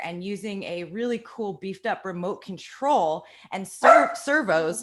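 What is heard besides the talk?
dog barking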